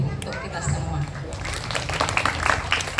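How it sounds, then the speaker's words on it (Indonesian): School pupils and teachers at SDN 6 Lawang Kidul clap in a scattered burst of applause that builds toward the end, mixed with voices talking over it. "Tepuk tangan lagi untuk kita semua."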